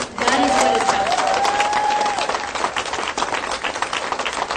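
Audience applause breaks out, a dense burst of clapping that stays strong at first and then thins slightly, with a voice audible over it.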